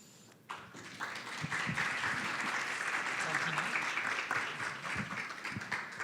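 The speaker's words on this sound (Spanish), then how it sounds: "nuevamente un aplauso" Applause breaks out from a conference audience after a medical talk on treating children with hemophilia, starting abruptly and holding as a full, even patter of many hands, with a voice faintly audible beneath it.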